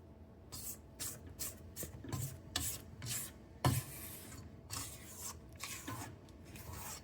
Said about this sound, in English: I'm going to scrape the sides.